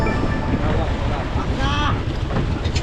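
A service boat with a new engine runs on open water, its motor droning beneath heavy wind buffeting the microphone and splashing waves, with a brief voice in the middle.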